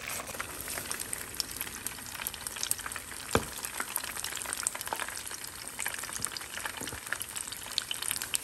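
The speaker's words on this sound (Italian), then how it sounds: "Niente, continuo a friggerle e mi faccio sentire tra poco." Steady crackling sizzle of food frying in a pan, dense spitting pops throughout with a few sharper crackles, close and continuous, no voices.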